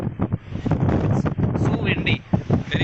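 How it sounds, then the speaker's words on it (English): Strong wind buffeting the microphone at the Vivekananda Rock Memorial, set on an island in the Indian Ocean, a steady loud rumble with gusts under a person talking. "It's quite windy out here"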